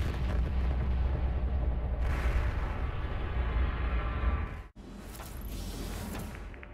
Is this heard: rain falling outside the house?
no